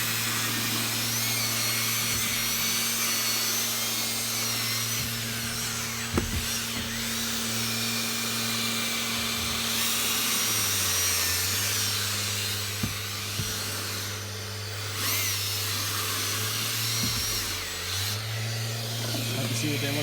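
A carpet extraction machine whines steadily while cleaning badly soiled, brown carpets, a continuous motor drone with shifting pitch and a few sharp clicks, close and constant throughout.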